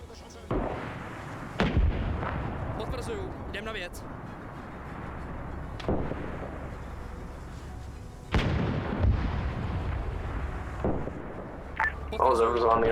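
Artillery gun firing in a wartime battle game, several heavy booming shots spaced seconds apart, loud and close, with someone talking in between the blasts.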